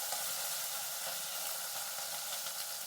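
Tangra fish frying in hot oil in a home kitchen, a steady, fairly quiet crackling sizzle with a constant hiss and no talking.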